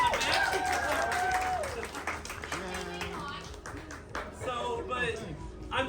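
An audience at a class for mermaid tails at the Spring Splash claps in scattered applause, mixed with talking and cheering voices that carry over the hands throughout.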